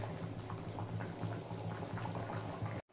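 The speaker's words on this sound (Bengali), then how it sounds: "বেশ কিছুক্ষণ ফুটিয়ে নিয়েছি, আলু সেদ্ধ হয়ে গেছে।" Matar paneer curry with potatoes boils steadily in a pot, a dense continuous bubbling and popping that stays even and close throughout before cutting off abruptly at the end.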